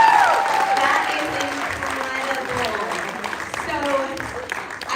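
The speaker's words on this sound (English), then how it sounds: "let's give them a round of applause" Audience applause at a leadership summit for first-time attendees, a sustained crowd clapping that starts loud and eases slightly, with a speaker's voice and some cheering over it.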